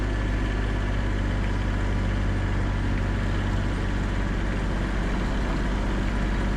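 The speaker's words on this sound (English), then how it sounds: "I can maneuver the tractor to get turned around and use the blower" Tractor engine running steadily while clearing heavy snow with a blower after a big storm, a loud, continuous low droning hum with no breaks and no talk.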